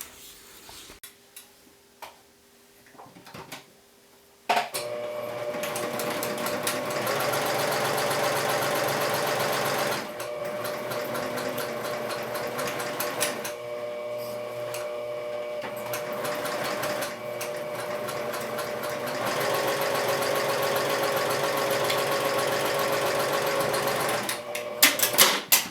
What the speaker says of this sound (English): you're going to sew these panels together with a 1/2 inch seam allowance along the straight edge